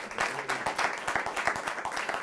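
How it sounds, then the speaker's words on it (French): Applause from a small group, a short run of fairly quick, even hand claps, moderately close and steady. "Ça mérite une main d'applaudissement là-dessus."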